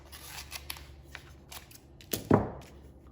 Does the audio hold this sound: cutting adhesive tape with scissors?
yes